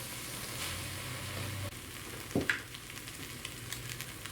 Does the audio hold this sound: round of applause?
no